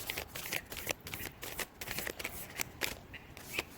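Close, crisp shuffling of a deck of oracle cards, a quick run of papery riffles and slaps repeating in uneven bursts with no talking over them.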